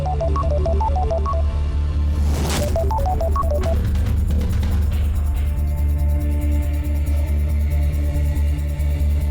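An electronic phone ringtone plays a repeating melodic pattern, loud and close, pauses, then resumes over a low steady hum.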